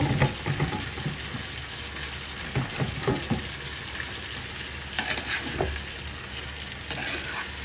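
Dried ribbonfish curry with vegetables cooking in a pan: a continuous close frying sizzle with bursts of stirring and scraping clatter, busier near the start and middle, and no talking.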